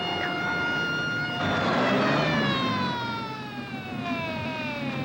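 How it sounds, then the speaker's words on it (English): A wailing siren sweeps up and down loudly and close, its tone falling slightly as the vehicle passes, with no talk. "All right, Mr. Reese, I see the ambulance is coming."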